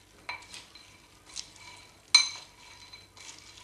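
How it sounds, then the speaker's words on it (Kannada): A spoon stirs masala spice mix into hot roasted peanuts in a metal pan, giving a few separate scraping clinks and rattles with a louder clatter in the middle, close and otherwise quiet. "ಇದನ್ನು ಮಿಕ್ಸ್ ಮಾಡ್ಕೊಳ್ಳೋಣ ಚೆನ್ನಾಗಿ"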